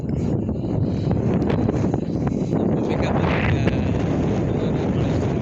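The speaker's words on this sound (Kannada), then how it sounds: "ಬೀಚ್ ಥರ ಚಂದ ಗಾಳಿ ಬೀಸ್ತಾ ಇದೆ ಇಲ್ಲಿ" Wind buffets the microphone in a steady low roar, with faint rustling and a voice speaking underneath.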